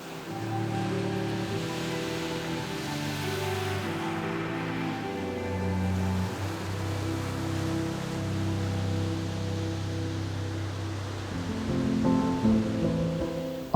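Sea waves at Biarritz on the French Basque coast roll and wash in a steady broad roar, with swelling surges and a low rumble running throughout, alone and continuous.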